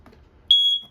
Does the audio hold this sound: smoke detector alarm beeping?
yes